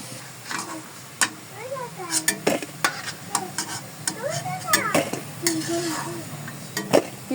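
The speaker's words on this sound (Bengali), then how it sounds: "এখন এটা বাদামি কালার করে ভেজে নিব।" Potato pitha frying in hot oil, with a steady sizzle close by and intermittent sharp clinks and scrapes of a spatula against the pan, while someone talks over the cooking.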